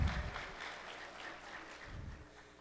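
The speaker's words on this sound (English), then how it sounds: "So I would like to give them a big round of applause to all the community organizers" Applause from an audience at a Tigray community festival in Denver, honoring community organizers; a faint, steady patter of many hands clapping that lasts a couple of seconds.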